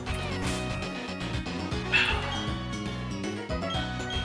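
A dog Pokémon gives its cry in Pokémon Platinum during a battle: a brief, bright yelping burst stands out near the middle over looping game music, with no talking.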